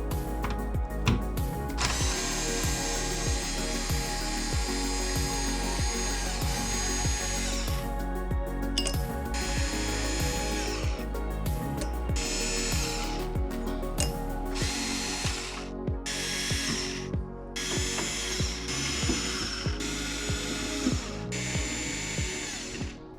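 A power driver spins screws out of rear hatch trim on a C8 Corvette in a steady series of loud, close bursts with brief pauses between them, and no talking.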